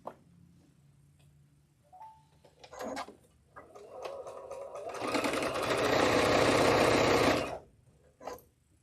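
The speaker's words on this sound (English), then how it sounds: "I'm going to sew these together just like this. First, we're just going to chain piece all of these" A domestic sewing machine chain-pieces quilt blocks, running in a loud steady burst near the end after softer bumps, clicks and brief handling noises of fabric being fed.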